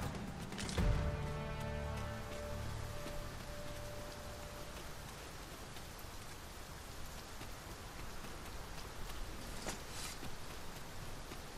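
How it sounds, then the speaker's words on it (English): Rain falls in the fantasy game Dragon's Dogma 2, a steady, even hiss of downpour that continues throughout, with a brief tonal sound near the start. "Mind the rain, Master."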